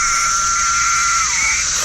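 Brood X periodical cicadas call in a dense chorus, a loud, continuous droning buzz with a slight pitch shift partway through and no voices.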